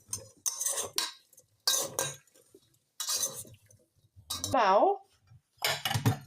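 Greek salad tossed with dressing, close utensil clinks and scrapes against a dish in short bursts, separated by pauses, with a person talking in between.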